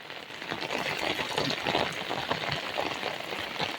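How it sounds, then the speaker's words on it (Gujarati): Heavy rain pours down steadily over a field of cotton plants, a dense, continuous close hiss with no pauses and no voices. "ઓ વરસાદ વરસી રહ્યો છે મિત્રો ભયંકર વરસાદ"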